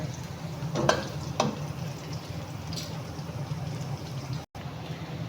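Aromatics with black pepper sautéing in a pan for Filipino pork adobo: a steady close sizzle of frying with a couple of brief scraping stirs near the start, then an even hiss.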